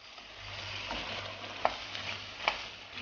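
Chicken for curry tagliatelle frying in a pan, a soft continuous sizzle close by with a few sharp spatters and utensil clicks, quiet and without voices.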